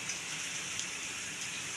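Heavy rain pours down in a dense, steady hiss during a downpour heavy enough for rainwater to get into a house, with faint drops pattering on surfaces and no pauses.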